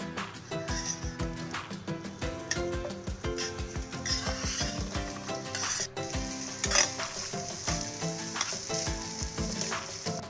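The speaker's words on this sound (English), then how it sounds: "Now once the oil is hot enough, you can now add the sausages and the garlic to it." Chicken sausages and garlic frying in hot oil in a pan, a loud continuous sizzle with stirring and scraping of utensils against the pan throughout.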